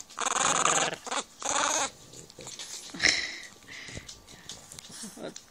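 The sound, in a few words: French bulldog growling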